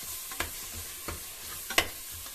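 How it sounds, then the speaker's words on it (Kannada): Masala fries in hot oil for mushroom biryani, a steady soft sizzle broken by a few sharp scrapes of a spoon stirring the pan, close and without talk. "ಇವಾಗ ಮಸಾಲೆ ಉರಿತಾ ಇದ್ದೀನಿ."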